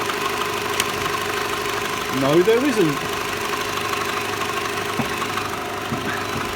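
A Renault Clio's 1.2 litre 16-valve engine idles steadily with a low rumble, while a person speaks briefly over it and a short whine rises and falls midway.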